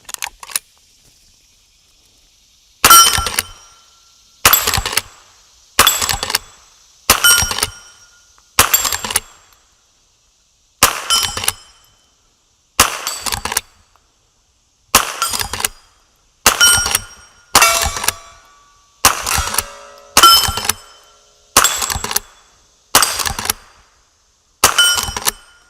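A .22LR lever-action rifle with a Skinner sight fires round after round at steel targets, about fifteen sharp cracks each followed by a ringing ping, spaced a second or two apart in a steady rhythm with quiet between.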